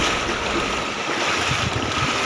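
A strong river current rushes steadily at Lawasan River in Norzagaray, Bulacan, a dense, continuous broadband roar of flowing water, loud and close with no pauses.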